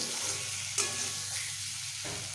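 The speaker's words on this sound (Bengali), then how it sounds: "মশলার সঙ্গে এইভাবে একটু ভেজে নেব কয়েক সেকেন্ড" Spices frying in a pan while cooking a vegetarian pumpkin dish, a steady soft sizzle with a spatula stirring and scraping, one sharper clink near the start.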